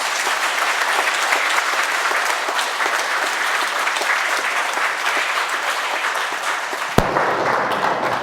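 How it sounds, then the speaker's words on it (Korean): A church congregation gives a loud, sustained round of applause welcoming a visiting prison-ministry pastor at Sunday worship, dense clapping filling the room before cutting off abruptly near the end. "뜨거운 박수로 환영해 주시기 바랍니다"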